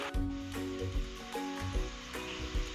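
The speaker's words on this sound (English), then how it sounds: "oil is now heated, so we will add the noodles to it to fry" Noodles frying in hot oil in a kadai over a high flame, a steady sizzle with periodic louder bursts as the noodles shift, close and continuous with no talking.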